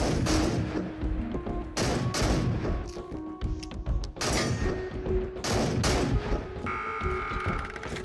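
Rapid volleys of tube-fed shotgun blasts in a video game, each loud boom followed by mechanical pump and reload clatter, repeating through the stretch with no talking.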